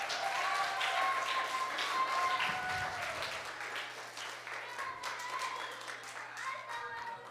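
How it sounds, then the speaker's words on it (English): A small crowd gives Mr. Ford a round of applause at a history event, a quiet patter of scattered claps lasting several seconds, with faint voices mixed in. "Let's give Mr. Ford a round of applause"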